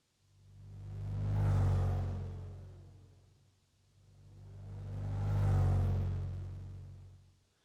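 A synthetic robot sound built in Krotos Igniter with a granular engine rises and falls in two long, swelling rumbling whooshes, each building to a peak and fading away, with no talk.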